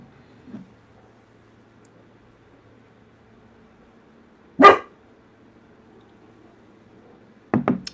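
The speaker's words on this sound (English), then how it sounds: "I can hear those dogs barking too" Dogs barking in a quiet room setting: a faint yip early, then one sharp, fairly loud bark, and a closing pair of quick barks, each separated by long stretches of near silence.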